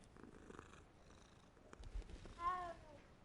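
A cat purrs in the video game Hogwarts Legacy as a soft, low rumble, with a brief higher-pitched cat call near the end. Quiet game ambience sits underneath.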